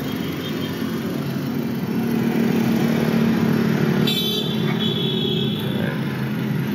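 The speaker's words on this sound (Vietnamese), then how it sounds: "Và động cơ tôi đang để nổ máy đấy quý vị các bạn thấy." A 2015 Honda City's engine idles with a steady, smooth low hum, close by and unchanging, with no voices.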